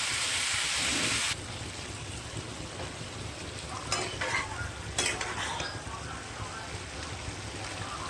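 Pumpkin and mixed vegetables fry in a pan while being stirred, a steady close sizzle with scraping strokes of the spoon, after a brief louder hiss at the start; no talking.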